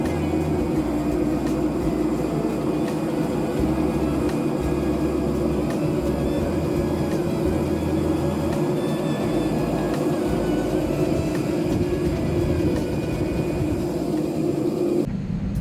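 Inside the cabin of a Eurowings Airbus A320 during pushback and taxi, a steady low engine and airflow rumble with a faint hum runs continuously at moderate level, no talk.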